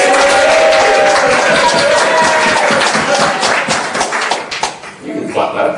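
An audience at an awards dinner claps in a dense burst of applause that thins out toward the end, with voices mixed in.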